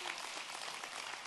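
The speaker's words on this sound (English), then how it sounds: "And can we give Scotty a round of applause?" Brief, faint burst of audience applause, a dense wash of clapping hands from a crowd, heard alone for just over a second.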